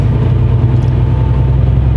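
A car driving along, a loud, steady low engine rumble with constant road drone and no pauses.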